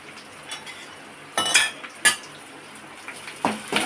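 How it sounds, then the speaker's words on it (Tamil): Onions sautéing in a pan for chilli idli, heard as a few clinking, scraping spoon strokes against the metal pan, with two sharper knocks near the middle and soft stirring scrapes toward the end. "நல்லா வெங்காயம் வதங்கணும்."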